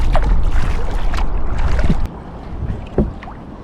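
A kayak moves fast across open water near Helsinki, Finland, with close, rushing splashes and wind buffeting the microphone, easing to quieter paddle strokes and a brief splash near the end.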